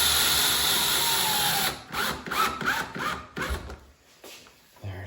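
A power drill whirs continuously, then fires in several short bursts as screws are driven through corner bead molding into drywall, close and fairly loud.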